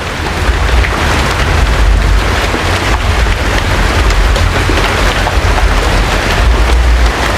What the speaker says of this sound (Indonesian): Jadi di sini diiringi dengan hujan